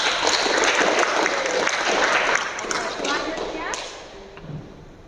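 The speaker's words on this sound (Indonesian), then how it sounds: "Saya apresiasi, tepuk tangan dulu." A classroom of students applauds together in a dense, steady patter that holds strongly for a couple of seconds, then thins and fades out toward the end.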